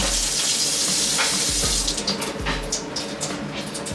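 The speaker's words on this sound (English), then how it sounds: "let's turn the water back on" A tap turned back on after plumbing work runs hard and close, a loud, steady broadband rush of water that breaks into a spluttering, uneven flow partway through.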